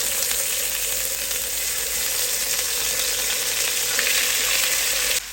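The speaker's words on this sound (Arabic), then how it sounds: "هنزل بقى بالفراخ كده احمرها، ده تحميره." Chicken pieces sizzle and fry steadily in hot ghee flavoured with melted mastic, a dense, continuous crackling hiss at close range with light stirring scrapes, no voices.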